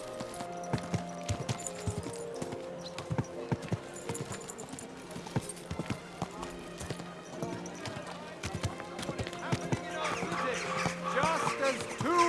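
Horse hooves clip-clop in a steady rhythm in Kingdom Come: Deliverance II, with a voice talking over the hoofbeats and other game sounds.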